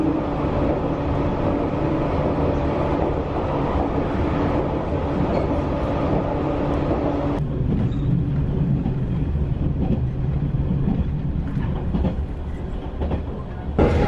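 Steady rumble and clatter of the Shinano limited express train in Japan, heard from the front seat, with a continuous close-up drone that shifts in tone midway as the ride continues.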